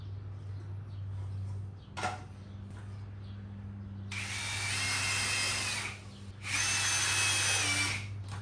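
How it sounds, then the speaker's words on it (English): A power drill boring pilot holes in wood for a workbench whirs in two sustained bursts, loud and close, after a sharp knock, with a steady low hum underneath. "drill your 2 pilot holes and then put your screws in"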